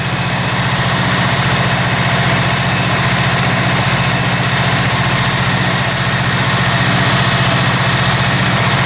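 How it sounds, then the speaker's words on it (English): A Subaru EA81 engine idles with its carburetor freshly reassembled and refitted, a steady, even low rumble that runs close and loud for the whole stretch with no voices. "We've got our carburetor reassembled, back on, fired up."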